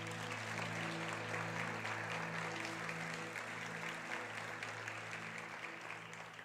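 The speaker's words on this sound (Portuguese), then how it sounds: "Eu queria que nós aplaudíssemos a Jesus agora." A church congregation at a Portuguese-language conference session gives sustained, dense applause, loud and steady for several seconds, with a held musical tone underneath.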